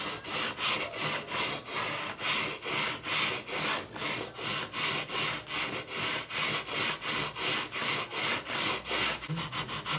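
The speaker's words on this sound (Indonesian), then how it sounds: "Setelah itu gunakan amplas yang kasar." Coarse sandpaper rubs back and forth across a wooden part in quick, even strokes, each pass a loud close rasp repeating steadily in a regular rhythm.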